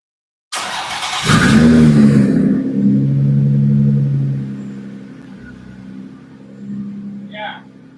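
A car on the MR6 project cranks and fires up, then the engine revs and settles into a loud, close idle rumble that gradually eases off, with a brief voice near the end.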